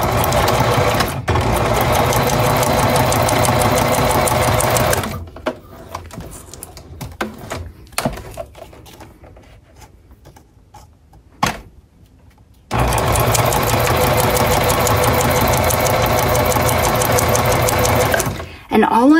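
A sewing machine stitches through tulle and paper butterflies in loud, fast mechanical runs at the start and again near the end, with a quieter stretch between them.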